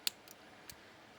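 A few faint, crisp snips of small scissors cutting a bead strand, two quick clicks near the start and one more after a short pause, in a quiet room.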